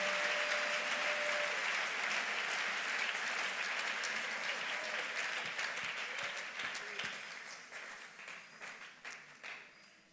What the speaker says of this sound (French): si quelqu'un veut applaudir, qu'il applaudisse bien.